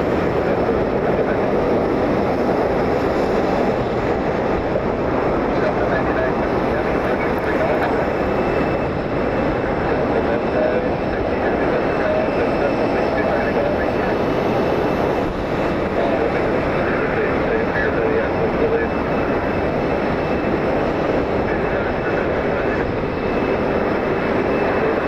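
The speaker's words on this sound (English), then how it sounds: "Lufthansa 443, Star Alliance A340," A Lufthansa Airbus A340 airliner departing Detroit Metro Airport for Frankfurt, its jet engines producing a steady, loud, broadband roar that holds for the full stretch without letup.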